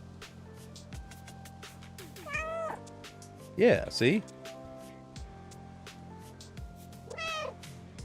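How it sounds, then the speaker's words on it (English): Several synthetic cat meows fire off as a stream sound alert, one sweeping cry early, a tight cluster of louder mews near the middle and a last meow near the end, over a steady background hum while someone speaks briefly. "It's a button that you press and it plays a random meow on stream."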